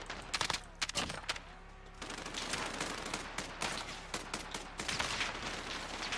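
Rapid gunfire crackles through a Call of Duty: Modern Warfare match, with dense bursts of automatic shots and scattered single cracks, loud and continuous across the whole stretch.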